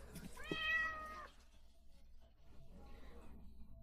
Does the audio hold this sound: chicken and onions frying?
no